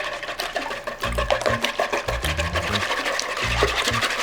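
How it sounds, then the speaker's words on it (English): A wire whisk beats eggs in a bowl while a goat cheese frittata is being made, giving quick, uneven scraping and clattering bursts with short pauses between them, close and fairly loud. "We're gonna take our whisk, and we wanna whisk as much air as I can into our eggs."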